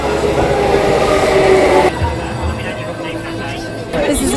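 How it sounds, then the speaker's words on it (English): Crowded train ride on a rail car as school lets out, with steady rumbling wheel and carriage noise that shifts and eases partway through. "This is a tight train ride we got here."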